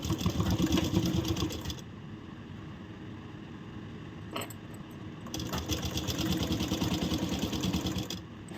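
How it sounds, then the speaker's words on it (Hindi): A sewing machine stitches a blouse with a steady, close whirring hum, pausing briefly mid-way before resuming its run, with a faint click between passes. "जितना गैप देते हुए हम यहाँ सिलाई लगा रहे हैं।"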